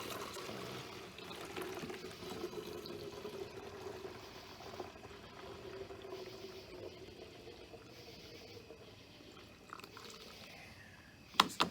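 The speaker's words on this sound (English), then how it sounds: "now I'm going to transfer this into the bottles with my funnel" Homemade hand sanitizer cleaning spray pours through a funnel into bottles: a soft, steady trickle and splash of liquid, faint and close, ending in a couple of small clinks.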